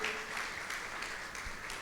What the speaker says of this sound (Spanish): Vamos a ver, un fuerte aplauso también